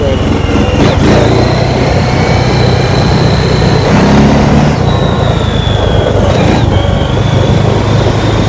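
A Honda Rubicon 500 ATV engine idles steadily on a brand new carburetor, a continuous low rumble with a faint whine, loud and close throughout.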